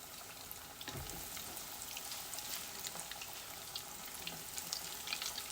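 Breaded mac and cheese balls deep frying in hot oil make a faint, steady bubbling crackle with scattered small pops, quiet and even throughout.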